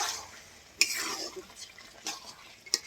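A spoon stirs fried ground spices in a cooking pot for a village dish of taro greens with fish head, giving a few faint scraping clinks amid soft background noise.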